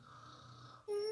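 A single drawn-out snore with a nasal, wheezy tone, cut off by a sudden high electronic beep from an alarm.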